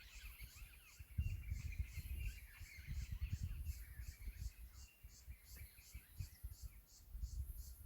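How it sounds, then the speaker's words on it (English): Faint, scattered bird chirps and calls at dusk at Bruce Rock Tree Reserve as birds head to roost, over a low rumble of outdoor ambience, with a steady high insect-like pulsing in the background. "you can hear all the birds heading home to roost"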